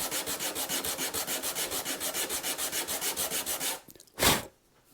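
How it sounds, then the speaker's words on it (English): A sanding block rubs back and forth over a wooden guitar body in about twenty quick, even strokes, close and steady, then stops with a couple of brief scuffs and a final louder swipe. "And there is that little bit sanded in as well."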